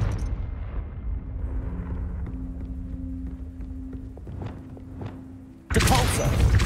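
In a Harry Potter video game, a steady rumbling hum with faint tonal drones runs under soft thuds, then a sudden loud, close blast bursts in near the end and stays roaring.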